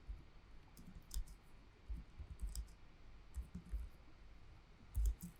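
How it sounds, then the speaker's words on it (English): Slow typing on a computer keyboard: faint, sparse key clicks and soft thumps spread unevenly, close but quiet. "See how slow I type?"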